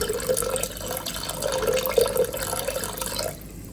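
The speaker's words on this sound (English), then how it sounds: "Then you add 500 ml of water." Water pours steadily into a blender jar in a home kitchen, a close, loud gurgling stream lasting about three seconds before easing off, with no one talking.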